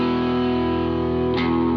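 Electric guitar played through a Walrus Audio ACS1 amp and cab simulator pedal with the gain cranked, a sustained driven chord ringing steadily and alone before a second strum near the end.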